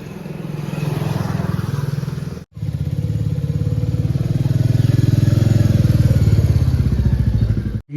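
A motorcycle engine runs close by, loud and steady for about eight seconds, with a low throbbing rumble as the bike gets ready to ride home from a family function outside a temple.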